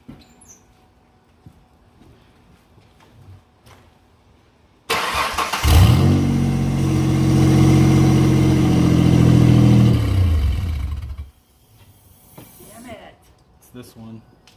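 A twin-turbo V6 in a Mustang cranks and catches on its first start, then roars with a loud, sustained rev for about six seconds before cutting off, followed by quiet shop noises.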